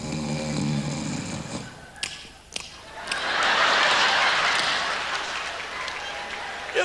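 A comedian on stage imitates a person snoring with a rough, nasal, gulping voice. Sharp slaps and claps follow, then a swell of audience applause and laughter fills the room.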